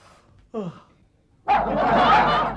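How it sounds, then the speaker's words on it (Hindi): A dog at a neighbour's house barks: one short, sharp bark, then a pause before a louder, longer burst of barking that keeps going to the end. "वो ज्यादा भौंकने लगेगा।"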